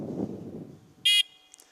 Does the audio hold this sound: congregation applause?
no